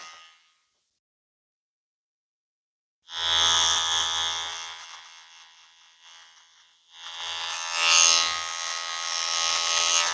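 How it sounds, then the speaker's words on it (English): A new electric hair clipper runs during a barbershop haircut, buzzing steadily in two loud bursts separated by a pause, starting after about three seconds of silence. "It's a new clipper though."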